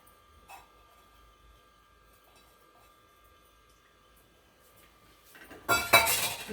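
Masala ragi pongal being stirred in a pot. A near-silent kitchen gives way, near the end, to a short, loud burst of clattering and scraping of a spoon against metal.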